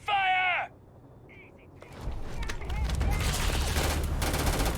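Gunfire in the Starfield video game breaks out as a dense, sustained volley of shots after a brief shouted voice and a short lull, loud and continuous to the end.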